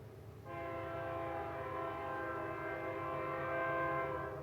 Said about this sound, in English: The windows are open and the train is blaring its horn.